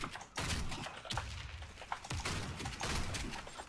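Mossberg 500C pump shotgun fired in the online shooter Warface, with repeated booming shots and thumps in quick bursts amid dense game combat noise, no speech.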